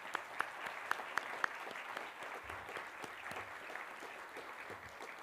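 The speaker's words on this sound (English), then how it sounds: "if we could join me in giving a round of applause" Steady applause from an audience at an anniversary celebration for a cultural center, a dense even patter of many hands with a few sharper claps standing out near the start, heard from some distance in a hall.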